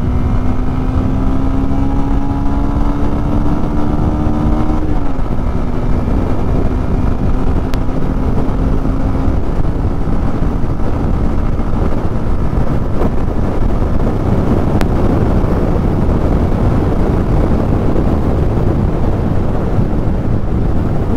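A 2024 Bajaj Pulsar 150 Dual Disc motorcycle ridden on the road, its single-cylinder engine and exhaust droning loudly and continuously, the pitch dropping at a gear change, with heavy wind rush throughout.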